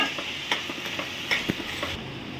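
Tomatoes frying in a pan for okra palya, with a soft sizzle under occasional light scrapes and taps of a spoon stirring, close and fairly quiet, no talking.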